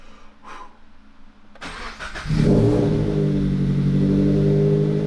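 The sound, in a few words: car engine starting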